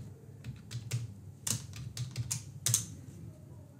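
A password is typed on a computer keyboard: a quick, irregular run of crisp key clicks of varying loudness, close up and without talking, over a low background hum.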